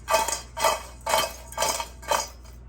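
Five rhythmic shaking bursts of salted, crisp French fries tossed in a bowl, evenly spaced, close and fairly loud with brief pauses between.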